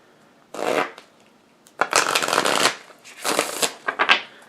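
Playing cards being shuffled up close in several loud bursts of riffling, each lasting about a second, separated by brief pauses, with no talking.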